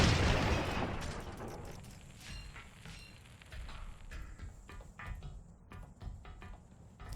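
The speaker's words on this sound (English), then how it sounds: "The explosions don't sound as good either." Explosions in the Xbox 360 game Crackdown 2 open with a loud, muffled boom that fades, followed by scattered quieter pops and bursts of game sound.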